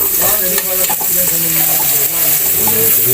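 Garlic frying in a pan for squid and shrimp adobo, a loud, close, continuous sizzle with stirring scrapes throughout.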